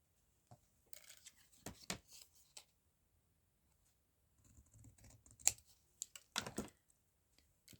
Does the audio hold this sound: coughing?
no